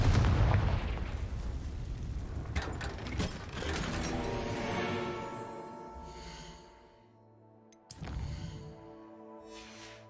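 Confringo blasting spell in the Hogwarts Legacy video game, a loud burst of explosive crackling and rumbling debris followed by a fading metallic ringing tail and a second sharp blast near the end.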